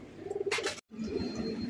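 A pair of Giribaz high-flyer pigeons coo close by in low throaty rolls, broken by a brief flutter and a short gap of silence midway.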